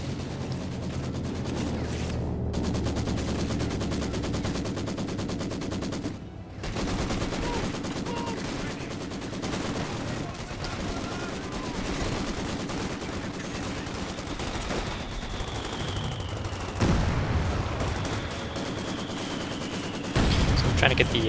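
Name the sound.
machine gun fire in Company of Heroes 2 (video game)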